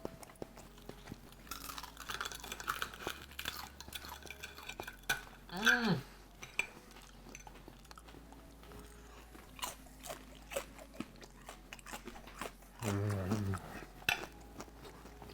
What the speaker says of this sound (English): I'm gonna go for the crunch and munch.